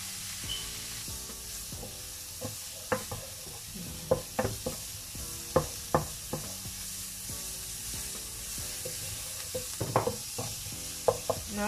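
Chilli powder, garam masala, coriander powder and salt sizzle in a hot pan for paneer butter masala, with a steady frying hiss broken by repeated sharp scrapes and taps of a spoon stirring, close and without talk.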